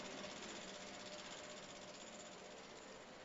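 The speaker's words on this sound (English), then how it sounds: "Centrifuge at 1500 RPM for 2 to 5 minutes." A laboratory centrifuge spins at 1500 RPM during a stool parasite examination, giving a steady, loud whirring hum with broad motor hiss that holds constant throughout.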